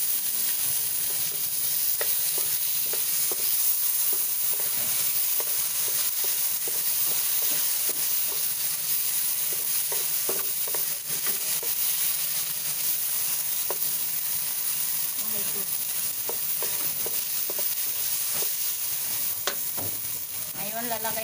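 Tomatoes being stirred and sautéed in a hot pan for pork binagoongan: steady, loud sizzling and frying throughout, with scattered scraping and clinking of a spoon against the pan, close up and without talk.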